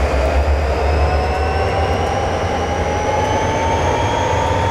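Locomotive pulling away in Train Simulator 2014, a loud continuous low rumble with a steady droning motor whine that climbs gradually in pitch as the train gathers speed.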